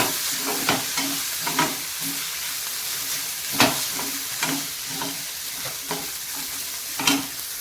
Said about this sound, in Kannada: ಇದಕ್ಕೆ ನೋಡಿ ಸ್ವಲ್ಪ ಅರಿಶಿನ ಹುಡಿ ಕೂಡ ಹಾಕೋತಾ ಇದ್ದೀನಿ ನೋಡಿ ಈ ಥರ ಮಿಕ್ಸ್ ಮಾಡ್ಕೊಳ್ಳಿ